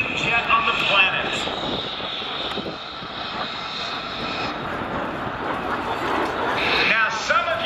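Jet aircraft engine roaring steadily through a flyby at an airshow, a loud sustained rush that swells and fades across the span, with crowd babble beneath it.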